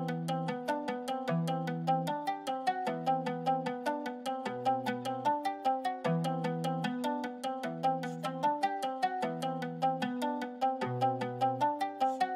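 A plucked mandolin from Chris Hine Guitars plays a steady repeating pattern of bright, quick notes over a low bass line, with no voices.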